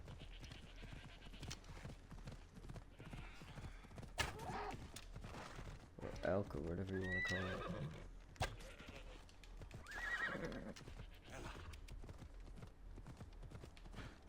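Horse hooves clip-clop at a steady pace in the video game Assassin's Creed Odyssey, with a horse neighing partway through and someone talking over the hoofbeats.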